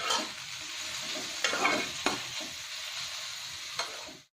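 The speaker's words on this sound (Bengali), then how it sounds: "সিম আর শুটকি চিংড়ি দিয়ে ভেজে নিলাম।" Flat beans with dried shrimp fry in a pan with a continuous close sizzle, broken by a few sharp scrapes and knocks of stirring, then the sound cuts off abruptly at the end.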